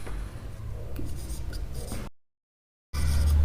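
Chalk or marker scratching on a classroom board during a chemistry lesson, a faint run of short taps and strokes under low room noise, cut by a brief gap of total silence before a louder rumble returns.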